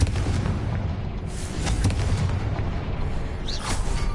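Fire spell explosions in the Hogwarts Legacy video game, a dense ongoing rumble of booming blasts and crackling bursts that swell near the middle and end, loud throughout with no talk.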